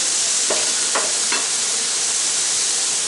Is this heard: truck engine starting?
no